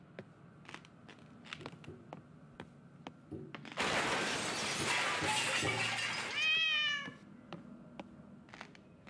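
A cat meows in the horror game Summer of '58 amid quiet ticking and scattered clicks, then a loud crash or shattering burst takes over, and a rising, wavering caterwaul cuts through near its end.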